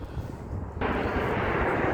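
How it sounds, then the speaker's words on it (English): A fixed-wing airplane passes overhead outdoors among pine trees, a steady broadband engine drone that swells abruptly louder partway through and holds, fairly close and loud. "get mad at the airplane that just decided to go over"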